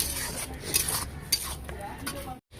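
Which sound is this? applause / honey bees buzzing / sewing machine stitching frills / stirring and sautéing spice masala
stirring and sautéing spice masala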